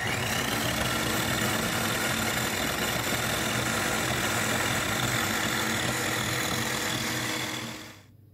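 Walnuts for fesenjan, a Persian chicken stew, ground in an electric grinder: a loud, steady motor whir with a gritty churn runs alone for about eight seconds, then winds down.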